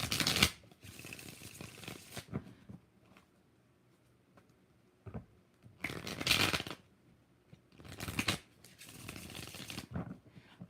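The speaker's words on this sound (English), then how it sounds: "Okay, 5 shuffles for Sasha." Tarot cards being shuffled by hand in several separate bursts of quick riffling, close and crisp, with quiet pauses between the shuffles.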